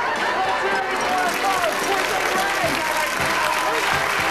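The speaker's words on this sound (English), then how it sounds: "big laughter, big applause" A TV talk show studio audience during a hypnosis segment breaks into loud, continuous applause, dense clapping with some crowd noise and voices mixed in, sustained evenly throughout.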